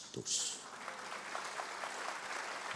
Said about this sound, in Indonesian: Bangkit berdiri, tepuk tangan lebih keras lagi.